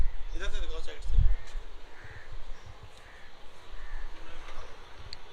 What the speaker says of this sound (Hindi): जब भी मैं बोलता हूँ तब चिड़िया चिल्लाने लग जाती हैं